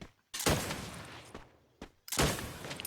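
Two heavy explosive blasts in Free Fire, each a booming burst that decays quickly, with a smaller shot in between; punchy game-style gunfire.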